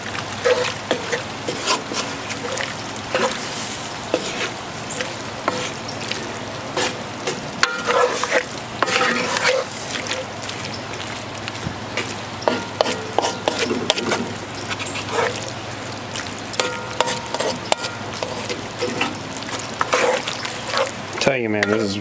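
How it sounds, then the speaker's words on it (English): Carne guisada cooking in a pot on a grill: a steady sizzle runs under repeated scraping and stirring strokes, with faint talk and a dog barking in the background. "Stir that in a little bit."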